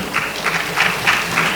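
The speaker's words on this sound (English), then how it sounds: "let's have a round of applause for our next panelist" Applause for a panelist at an education panel event, a brief patch of steady, moderately loud clapping from the audience with no talk.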